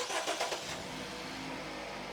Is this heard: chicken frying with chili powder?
no